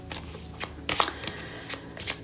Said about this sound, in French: une dernière carte et on va les retourner